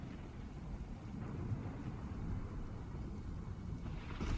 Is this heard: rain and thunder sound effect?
yes